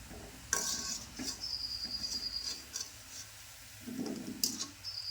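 Gulab jamun frying in a pan of hot oil: a soft steady sizzle with intermittent stirring scrapes and clinks, close and fairly quiet, with no talking.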